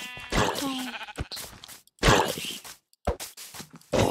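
Sheep in the Minecraft video game bleat in a few short wavering calls separated by brief pauses, close and clear with no talking over them.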